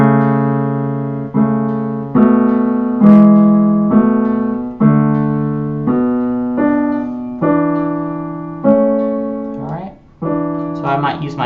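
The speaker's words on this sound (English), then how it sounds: "I'll play it on the keyboard" Sustained keyboard chords play the hymn "Prayer of Thanksgiving" in an easy piano arrangement, about nine slow, evenly spaced chords ringing clearly and decaying between strikes, with no talk over them.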